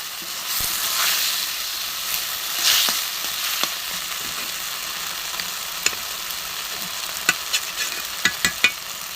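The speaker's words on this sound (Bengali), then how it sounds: "মাছটা ঝুড়ো করে ভেজে নেব। ভেজে গেছে মাছ।" Fish sizzling and crackling in hot oil, a steady frying hiss broken by sharp pops and spatters that grow more frequent toward the end. No voices.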